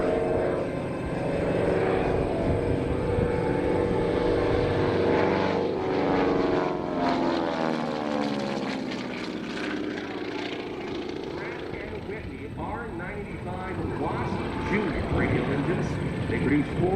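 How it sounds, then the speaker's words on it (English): A Beechcraft CT-128 Canadian Queen, a twin-engine propeller plane with 450-horsepower engines, drones loudly and steadily as it flies past at an airshow in Rochester, New York, its pitch shifting during the pass while a commentator talks over it. "They produce 450 horsepower apiece and propels Canadian Queen to over 220 miles per hour."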